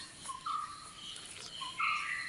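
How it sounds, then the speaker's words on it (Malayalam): Birds calling in the early morning around a scenic village, with bright chirps and short whistled phrases coming and going over faint insect-like background hiss, moderately near and without any talking. "കിളികളുടെ നല്ല സൗണ്ട് കളകളാരവം കേൾക്കുന്നുണ്ട്."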